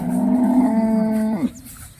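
A dairy cow at a cattle shed lets out one loud, close, sustained moo that ends abruptly.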